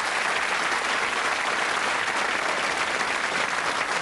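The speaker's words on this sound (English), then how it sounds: "Give them a nice round of applause." A television game show studio audience claps loudly and steadily for the full stretch, dense even applause with no voices over it.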